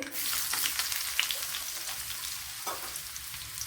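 Mustard seeds fry in a tablespoon of coconut oil for a Kerala-style fish curry, a dense, even hiss of hot oil with light crackles, close and steady, no voices.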